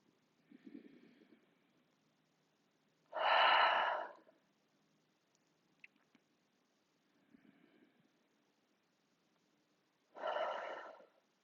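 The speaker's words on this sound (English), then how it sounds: "inhale through your nose and exhale, sigh your breath away." Yoga breathing, two cycles of a soft inhale through the nose followed by a loud, breathy sighing exhale through the mouth, close and alone in a quiet room.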